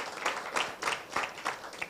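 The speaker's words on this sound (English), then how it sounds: "I'd like to give you just a round of applause for it." Sparse, rhythmic hand claps from a small audience at a legal-profession event on women in law and business, about seven evenly spaced claps in under two seconds, moderately close.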